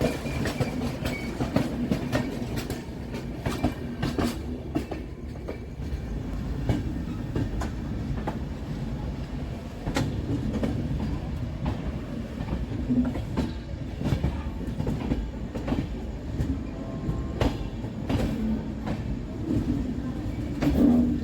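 The Darjeeling Mail express rolls along the rails on the run from Sealdah to New Jalpaiguri, heard from inside with a steady rumble and repeated clickety-clack wheel beats on the track joints, loud and continuous.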